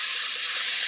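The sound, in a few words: water poured into a cooking pan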